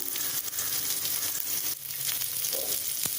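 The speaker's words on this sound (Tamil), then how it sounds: "இது கொஞ்சம் பிங்க் கலரில் வதங்கி வரட்டும்." Shallots sautéing in a pan, a dense continuous close sizzle with faint stirring scrapes underneath, loud and steady throughout.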